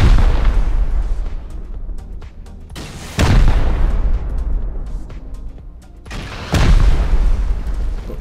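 Explosives striking stacked building walls in Rust, three heavy booms spaced a few seconds apart, each a sharp loud blast trailing into rumbling debris and decay.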